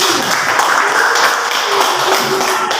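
A classroom group claps their hands together in a steady, dense burst of applause that fills the space evenly from start to finish, with no break in the clatter.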